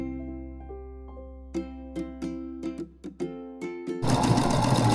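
A sewing machine stitches decorative stitches, a steady motor hum punctuated by a series of sharp rhythmic clicks, then shifting into a louder, busier whir at the end, close and alone.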